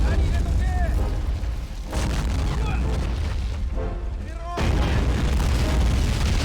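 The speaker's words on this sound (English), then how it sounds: "Charge the tank. Throw grenades." In an Army Men beach defence battle simulator game, grenades explode against a tank as repeated deep booms and blasts rumble in dense succession, with a voice talking over the barrage.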